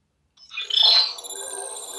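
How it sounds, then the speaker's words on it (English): A Motorola Moto G8 Power smartphone rings with an incoming call, a bright electronic ringtone that starts abruptly, peaks loudly, then holds steady and alone. "Phone call."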